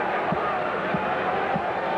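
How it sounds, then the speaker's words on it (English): A basketball arena crowd at a 1982 NBA Finals game roars steadily as a free throw misses, with three dull ball bounces on the court beneath the broad, loud crowd noise. "Crowd cheers his first miss from the line."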